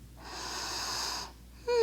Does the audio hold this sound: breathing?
yes